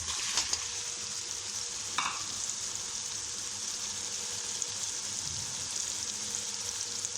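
Potatoes dropped into a hot pan with aubergine, hissing in a steady, loud sizzle with a brief sharper burst early on, close by and continuous with no talking.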